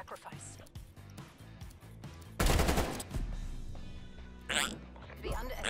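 Bursts of automatic gunfire in the video game Call of Duty: Black Ops Cold War during a competitive league match rattle loudly in the mix, with rapid shots and a player talking over the action.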